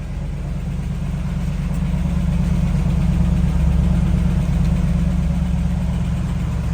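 A Lincoln limousine engine idles after a cold start on a chilly New England day, a loud, steady low rumble with a slight rise in the middle, close to the microphone and without talking.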